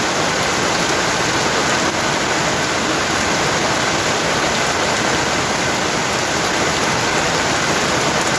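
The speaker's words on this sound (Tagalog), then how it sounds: "Ganyan kalakas ang ulan." Heavy morning rain pours down in a steady, loud hiss, an unbroken wash of falling water with no voices over it.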